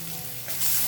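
Garlic dropped into a pan with roasted chilies, a brief sizzle that swells louder partway through the short moment.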